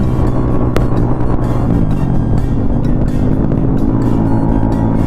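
A motorcycle being ridden on an outing drones steadily with engine hum and strong wind rush throughout, a continuous close passing-vehicle sound with no talk.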